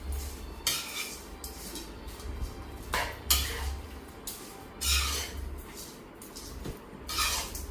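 A metal spoon scrapes and clinks against a pan while beef roast ingredients are stirred, giving irregular clanks and scraping strokes over a low background hum, close and fairly loud.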